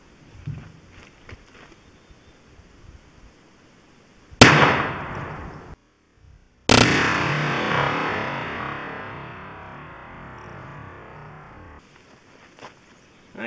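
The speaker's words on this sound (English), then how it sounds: "we'll try to put a shot in on that near side of the block and get a capture in it" .223 rifle fired into a ballistic gel block outdoors: a sharp, loud crack at about four seconds, then a second blast whose echo rolls away and fades over several seconds, with quiet room tone before and after.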